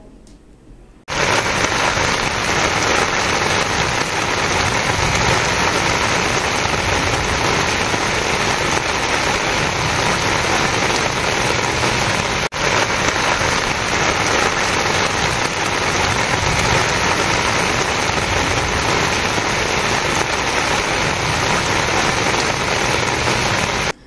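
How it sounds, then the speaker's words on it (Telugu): Heavy rain pours steadily, a loud unbroken hiss that starts after a brief quiet moment and holds for over twenty seconds. "వర్షం బాగా కురుస్తుండటంతో"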